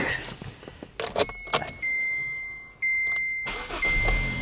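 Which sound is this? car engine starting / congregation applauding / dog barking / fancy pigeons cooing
car engine starting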